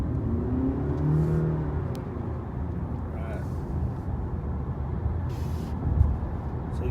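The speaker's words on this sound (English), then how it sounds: "So I'm actually going to take off from a complete stop in sport mode," A 2018 Honda Clarity Plug-In Hybrid pulling away from a complete stop in sport mode, with a steady close whirring drive hum and road noise that builds slightly over several seconds.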